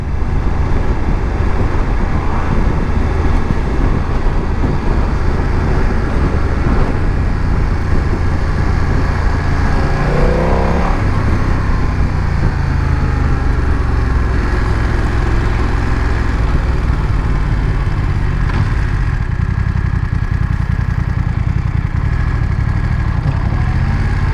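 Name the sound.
BMW F900 XR motorcycle engine at 3000 rpm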